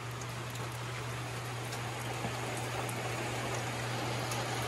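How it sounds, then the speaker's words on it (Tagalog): Steady rain falling, a dense even hiss of drops that stays constant and close throughout with no voices, a low hum running underneath. "Hindi na pati tumigil yung ulan."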